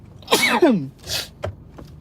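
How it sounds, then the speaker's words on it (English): One close, forceful sneeze with a drawn-in breath, then a softer breathy sound and a couple of faint clicks. "Hold on, y'all, I gotta sneeze."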